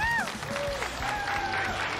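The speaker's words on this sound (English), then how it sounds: "I know you guys are cheering for me" Audience at a poker final table applauding and cheering, a steady close patter of clapping with a voice talking over it.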